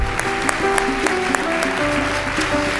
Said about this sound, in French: Est-ce qu'on peut donner une bonne main d'applaudissement?